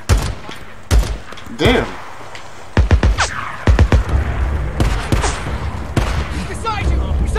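Bursts of gunfire ring out in the Days Gone video game, sharp shots in irregular clusters mixed with shouted talk over the action.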